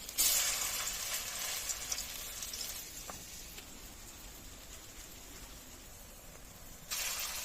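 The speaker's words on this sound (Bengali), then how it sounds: "এই যে বড়া ভাজা শুরু হয়ে গেছে" Soybean paste fritters shaped like fish frying in hot oil, a soft continuous sizzle with a louder burst at the start and again near the end.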